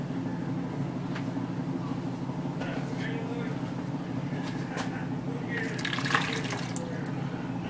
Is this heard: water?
yes